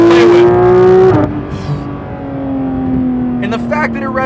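A 2019 Porsche 911 GT3 RS engine, which revs to 9,000 RPM, sings at high revs with a loud steady tone that drops away and then settles at a lower pitch, while someone talks over it.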